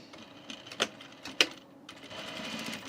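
A sewing machine runs quietly while stitching a men's button-up shirt placket, enclosing a bias placket edge, with a few sharp clicks early on and then a steadier, low whirring run.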